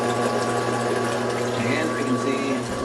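A Fisher & Paykel dishwasher with a faulty diverter valve runs its pump, circulating water in a steady, continuous mechanical hum with faint sloshing and a trickle draining through a tube into a basement sink.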